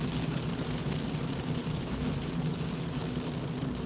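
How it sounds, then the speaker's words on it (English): Heavy rain drumming on a car during a night drive from Ashton-under-Lyne to Wigan in the UK, a constant dense hiss with a low engine and road rumble underneath, no voices. "This rain is rather relentless."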